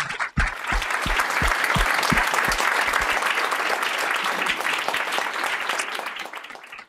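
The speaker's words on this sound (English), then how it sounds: "please join me in giving them all a big round of applause" Attendees at a fireside chat with Nobel laureate Muhammad Yunus break into a big round of applause, loud sustained clapping from a large crowd with a few heavy close claps near the start, fading at the end.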